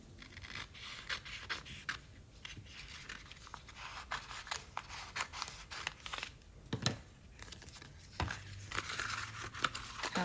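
Vinyl decal sheet being trimmed down, a steady run of small crinkly scrapes, snips and rustles at close range, quiet and continuous with no speech.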